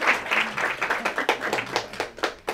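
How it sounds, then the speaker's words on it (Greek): Audience applause welcoming a guest at a Greek book talk, a dense burst of many hands clapping close by that fades slightly over a couple of seconds. "Ένα χειροκρότημα για τον φίλο μου τον κύριο Σόλωνα, παρακαλώ."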